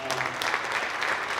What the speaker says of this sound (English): So Reading will have applause for that too.